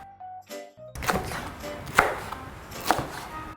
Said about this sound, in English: Just cut the vegetable this way.